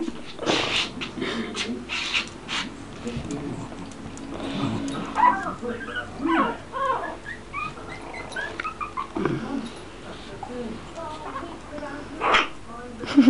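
Four-week-old Brussels Griffon x Jack Russell puppy whimpering in fear, thin high whines and yips scattered among other small pup noises, close by, with people talking over it.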